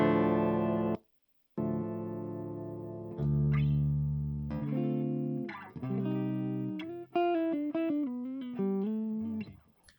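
Clean electric guitar notes and chords through a power amp with no effects, EQ or distortion, sustained tones with a brief silence early on, then quicker picked runs toward the end.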